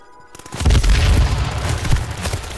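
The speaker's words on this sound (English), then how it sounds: "he's shooting through the wall" Heavy gunfire through a wall in the battle royale game H1Z1, a burst of deep booming shots following a quiet start, loud and continuous with muffled low thumps.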